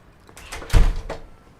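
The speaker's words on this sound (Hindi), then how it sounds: "मम्मी दरवाजा खोल रही है" A home's front door is opened: a few soft clicks and rattles lead into one solid thud, close by and brief.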